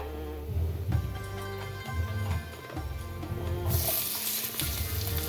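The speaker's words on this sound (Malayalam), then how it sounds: "ഇനി നമുക്ക് നേന്ത്രപ്പൂ അതായി കട്ട് ചെയ്തിട്ട് അതിലേക്കിടാം." Plantain pieces go into hot ghee with shallots and sizzle steadily. The crackle rises brighter as they are stirred in the pan, and no one speaks.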